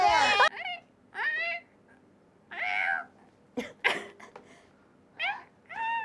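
A voice imitates a cat in a series of short, nasal, rising meows, about eight separated bursts spaced unevenly, loud and close with quiet gaps between them.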